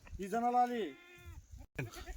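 Loud, wavering bleats from a nearby Kathiawari goat, one long cry then a shorter one, with scuffling and background noise in between.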